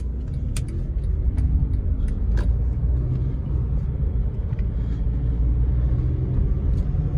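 A 2010 Honda CR-V 2.2 diesel automatic engine hums and rumbles steadily from inside the vehicle while driving, with occasional light clicks and rattles over the low drone.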